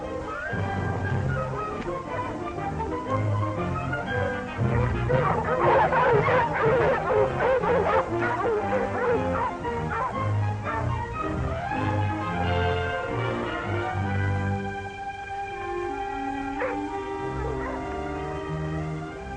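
Several dogs bark, yip and whimper together in a continuous excited chorus outdoors near an old logging camp, fairly close, with a faint murmur of voices beneath and the barking easing toward the end.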